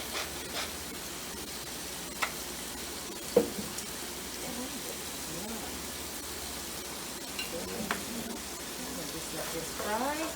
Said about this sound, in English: And while this is frying a nice golden brown